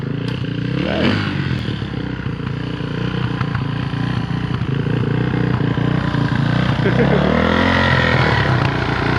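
A Suzuki DRZ400S motorcycle engine idles and revs in short bursts, with mechanical clatter and a rising-and-falling whine, while people talk nearby.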